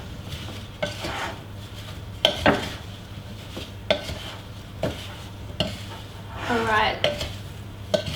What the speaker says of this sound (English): I'm going to use a wooden spoon.